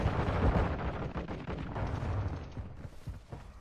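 Dense, rumbling gunfire and explosions from a Call of Duty match, a continuous barrage of overlapping shots that fades slightly near the end.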